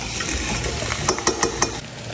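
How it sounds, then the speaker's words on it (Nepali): Mutton fries in a pot with salt and turmeric, giving a steady close sizzle, then several sharp metallic scrapes and taps of a spoon stirring against the pan near the end. "हाम्रो अब मासु नुन र बेसार राख्ने मैले एकैछिन छोपेर भुट्ने"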